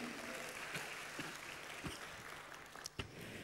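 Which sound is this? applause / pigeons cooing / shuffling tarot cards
applause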